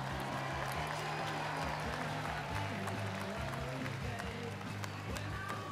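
An audience applauds the winners at a float and banner awards event, a dense, steady wash of many hands clapping that holds at an even level throughout, fairly distant and unbroken.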